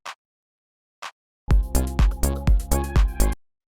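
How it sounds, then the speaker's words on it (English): Two isolated electronic clap samples sound a second apart, then a punchy minimal techno drum loop with bass kicks in briefly. "So the last sound we have here is this clap"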